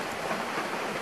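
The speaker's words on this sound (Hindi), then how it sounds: "तब से लेके अब तक बारिश ही हो रही है" Steady rain falls outside during a trip to Kerala, a dense, even hiss of water that is moderately loud and has no voices.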